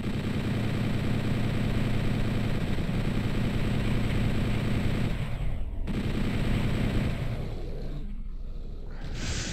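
Sustained rapid gunfire from a weapon in a shooter video game, loud and continuous with a dense rumbling texture and brief gaps near the end.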